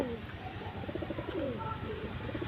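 Domestic pigeons coo softly and steadily nearby, their low rolling calls overlapping without a break over a faint background hum.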